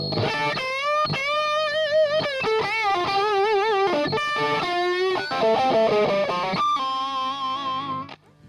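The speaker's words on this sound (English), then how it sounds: "the Tube Screamer, which makes a lot of noise" A bending, vibrato-laden electric guitar lead through a Tube Screamer overdrive pedal plays a fluid melodic phrase, warm and gritty, with no voices.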